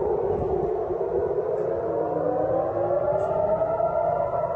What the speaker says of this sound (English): Sirens were blaring and dozens of missiles were seen flying across the skies